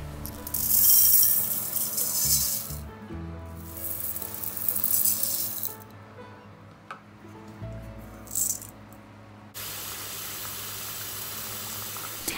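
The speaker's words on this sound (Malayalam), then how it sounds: "ഈ ഒരു ബസ്മതി റൈസ് ഒരു 3 cup ബസ്മതി റൈസ് ആണ് ഇന്ന് ആവശ്യമായിട്ടുള്ളത്. അത് നമ്മൾക്ക് അളന്നെടുക്കാം" Three cups of Green Farm basmati rice are scooped and poured, the dry grains rattling in loud, close bursts separated by short pauses, with a quieter steady hiss toward the end.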